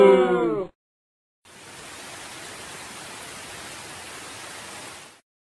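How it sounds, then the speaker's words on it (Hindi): Steady rain pours down on its own for several seconds, a dense, even hiss that begins after a short cartoon voice line and holds at a constant moderate level before stopping abruptly. "ओह, ये बारिश तो बंद होने का नाम ही नहीं ले रही"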